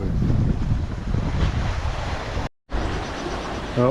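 Wind blows hard over a sailboat at sea on a round-the-world voyage near Papua New Guinea, a loud continuous rush with buffeting on the microphone, broken by one brief dropout.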